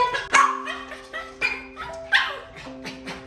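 Dogs at a dog daycare for abandoned dogs bark and yip in short bursts, several sharp barks close by mixed with whimpers and a background tonal hum.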